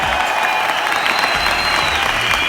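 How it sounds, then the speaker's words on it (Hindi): Loud, sustained applause from an audience welcoming guests on stage, a thick continuous roar of many hands clapping at once. "जोरदार तालियों के साथ स्वागत कीजिए"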